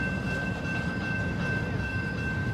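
Night train rolling past in Plymouth, Michigan: a steady low rumble of rail cars holds throughout, with a thin high whine running above it and no break in the sound.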